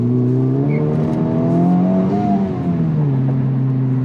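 Honda Civic Type R engine accelerating through a corner on a track day, heard from inside the car as a loud, close drone whose pitch rises steadily, dips briefly, then holds, with no talk.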